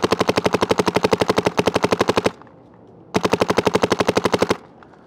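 A paintball marker fires in two rapid bursts, each a fast even string of loud sharp pops at close range, separated by a brief quiet gap and followed by a short pause.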